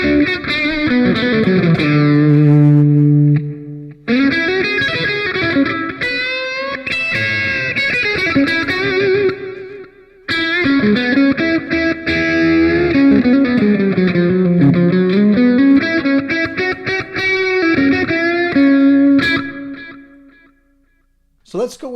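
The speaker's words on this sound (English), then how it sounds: "You can hear the delay on this one." Electric guitar through a NUX MG-101 multi-effects unit with a Fender-style amp model and delay, playing overdriven melodic phrases with trailing echoes across several bursts, separated by short pauses and ending in a fade.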